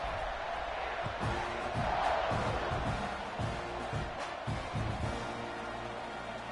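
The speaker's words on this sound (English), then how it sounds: "this crowd is feeling themselves after that last drive" A stadium crowd in a college football video game roars in a broad, steady wash of cheering, loud and continuous, with a commentator's voice talking over it.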